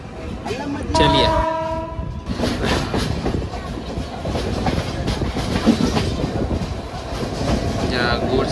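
A goods train rumbles past on the line near Bibinagar with a rhythmic clatter of wagons, loud and close, and a long horn blast sounds early on while a voice talks over the din.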